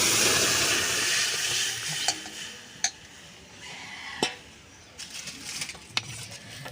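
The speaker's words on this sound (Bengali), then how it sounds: "ডালটা ঢেলে দেব।" Mango dal poured into hot oil tempered with panch phoron, bay leaf and dried chillies bursts into a loud hissing sizzle that gradually dies down, with a few sharp utensil clinks along the way.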